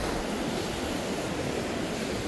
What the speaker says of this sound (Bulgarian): Вълните са поне 3 метра.